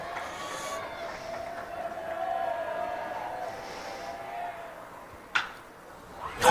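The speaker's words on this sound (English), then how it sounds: "The crowd's into it now" Crowd noise at a high school 6A baseball consolation game, Bingham vs. Mountain Ridge, a steady murmur of fans building through a tense at-bat, with a sharp burst of cheering near the end.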